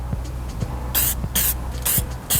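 Short bursts of gasket coating spray from an aerosol can onto a motorcycle cylinder gasket for a Yamaha Zuma 158cc big bore kit, four separate hissing sprays in steady rhythm, close and loud, with low clunks of handling in between.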